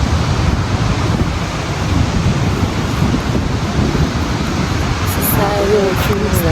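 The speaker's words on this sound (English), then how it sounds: "It's a beach." Ocean surf on a beach in Durban rolls and crashes steadily and loudly, with strong wind buffeting the microphone throughout and no pause in the roar.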